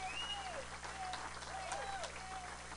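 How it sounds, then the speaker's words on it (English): A crowd applauds State Representative Avery Bourne at a primary election night event, a dense, steady clapping with cheering and shrill whistles carrying through it for the whole stretch. "Let's give her another round of applause."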